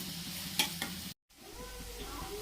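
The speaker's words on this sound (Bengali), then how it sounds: "এটা পেঁয়াজটা লাল করে ভেজে নিচ্ছি" Onions fry in mustard oil with a steady close sizzle and a couple of stirring scrapes, then a brief silent break before the quieter frying resumes.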